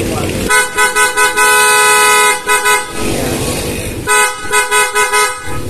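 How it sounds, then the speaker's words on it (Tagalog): A PIA horn on a Honda Click 125 motorcycle sounds in loud repeated bursts, short toots and longer held blasts in a stuttering rhythm, close to the listener, with a pause of quieter noise between groups. "Ayan, solid yung busina ni sir, no."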